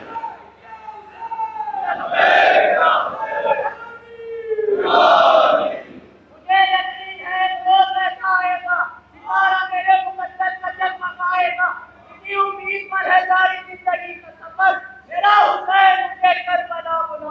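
A crowd at an annual religious majlis gathering in Baghra, Uttar Pradesh, loudly chants slogans in unison, with bursts of massed voices answering a leader's call in a rhythmic, repeating pattern.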